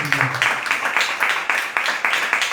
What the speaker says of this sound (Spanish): Regalémosle una ofrenda de palmas a Dios.